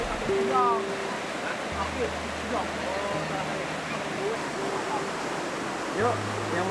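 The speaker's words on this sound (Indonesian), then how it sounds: "Sungai ini terlihat lebih dalam dan lebih deras." A deep, fast-flowing river in a nature reserve rushes with steady broadband roar, while faint voices and a low hum sit beneath the constant water noise.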